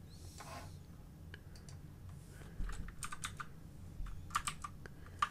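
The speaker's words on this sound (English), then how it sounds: "Just type." Someone typing on a computer keyboard, with scattered key clicks in short uneven bursts, close and fairly quiet, with no talking.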